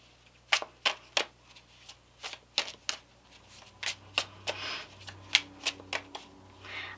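Tarot cards shuffled by hand at close range, a run of sharp riffling bursts and flicks in an uneven rhythm over a quiet room hum.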